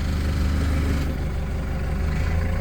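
A new 2025 Toyota 62-8FD30 diesel forklift engine runs steadily at a low idle while the machine backs up. The low, even rumble is close and continuous, with no revving.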